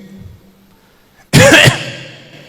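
A short, harsh cough burst from a human voice imitating a parrot, loud and close, followed by quiet room tone.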